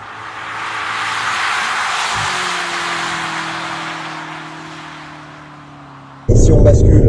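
A 600 hp BMW M5 accelerating, its engine note rising and building steadily, then a sudden loud surge near the end.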